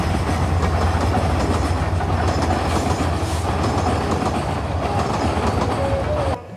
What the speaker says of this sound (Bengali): এই ট্রেনটি হয়তোবা চট্টগ্রাম থেকে আসছে। এটি একটি মালবাহী ট্রেন।